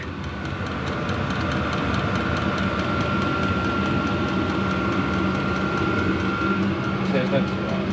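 A HCALORY diesel heater runs in a workshop, giving a steady, loud droning roar with a faint whine that holds unchanged for the whole stretch.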